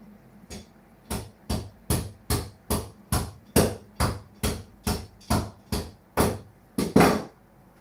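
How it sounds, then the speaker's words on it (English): Small hammer striking metal UK plug prongs to bend them, about fourteen sharp, evenly spaced taps at a steady rhythm, close and loud, with a couple of heavier blows near the end. "Get a little hammer"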